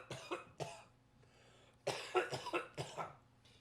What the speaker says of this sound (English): You still cough like that